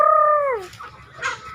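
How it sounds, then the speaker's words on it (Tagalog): A single loud, drawn-out chicken call sweeps downward, followed by a few softer clucks and squawks nearby. "Yung mga manok namin"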